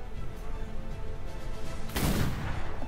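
A single loud, sharp gunshot blast in the video game Atlas rings out after a stretch of muffled background noise, followed by a brief decaying rumble.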